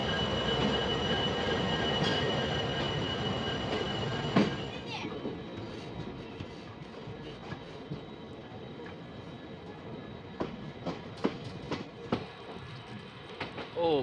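A train moves through Kulem railway station with a heavy rumble that eases after the first few seconds into lighter wheel clatter, scattered squeals and clanks, with people talking nearby.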